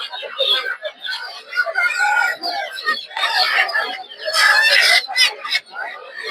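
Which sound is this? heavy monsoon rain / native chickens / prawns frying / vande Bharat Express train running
native chickens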